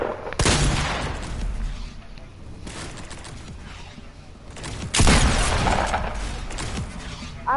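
Shotgun blasts ring out during a Fortnite match, with two loud bursts of gunfire and smaller shots between them. Speech is present but faint.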